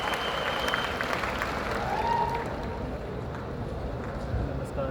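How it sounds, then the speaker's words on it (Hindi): Loud, dense applause and cheering from a large seminar crowd welcoming a guest speaker at a career guidance event in Bapu Sabhagar, Patna, a steady wash of clapping with voices mixed in throughout. "जोरदार तालियों के साथ"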